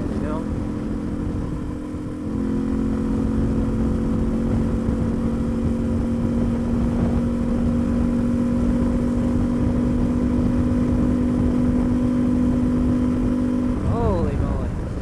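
Loud, steady intake roar from a Suzuki DR650SE single-cylinder motorcycle fitted with an FCR-MX carburetor while riding, a sustained droning engine tone holding nearly constant pitch over rushing wind noise, easing off near the end.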